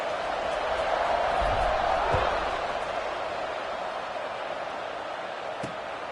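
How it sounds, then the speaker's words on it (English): A stadium crowd in a college football video game gives off a steady buzzing roar of cheering, a broad even wash of noise that swells slightly early and then holds, with faint commentary underneath. "this crowd is buzzing after that last score"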